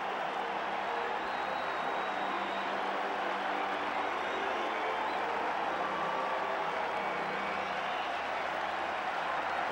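Baseball crowd at Wrigley Field, Mets at Cubs in 1994, roaring after a home run: a dense, sustained wash of cheering and clapping from a large stadium audience, steady and loud throughout with no break.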